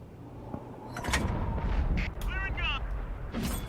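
Sexton I self-propelled artillery firing in a tank battle video game, a heavy booming shot followed by rumbling echoes and sliding mechanical clanks, with a commentator talking over it.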